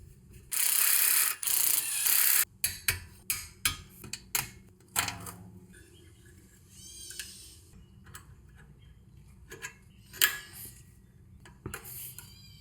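A hand ratchet turns an H7 hex bit during reinstallation of a rear trailing arm on a BMW Z3, first in a fast buzzing run, then a series of separate clicking strokes that slow into scattered faint clicks, close by.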